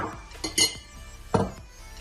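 Flour, salt and baking soda being mixed in a bowl for yeast-free bread, with a few sharp, close clinks of a utensil against the bowl amid soft scraping.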